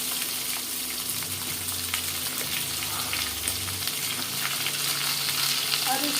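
Potatoes are tipped into a hot pan for a no-onion, no-garlic vegetarian dish. A loud, steady frying sizzle runs throughout, with light stirring scrapes.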